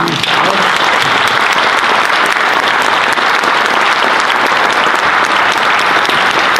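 Loud, dense applause from an audience at a school student presentation event, many hands clapping continuously and evenly throughout, with no breaks.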